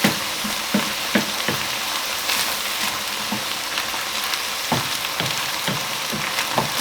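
Mince for lasagne frying in a pan while being stirred, a constant loud sizzle broken by repeated scraping strokes of the utensil against the pan.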